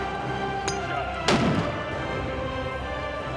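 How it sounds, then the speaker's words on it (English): A single sharp .50 BMG rifle shot cracks once, fired at long range from a rifle with a carbon fiber barrel and muzzle brake, a loud brief boom over a steady outdoor background. "That was the 50 BMG."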